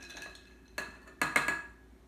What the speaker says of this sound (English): Just a slight stir. And another little stir right here.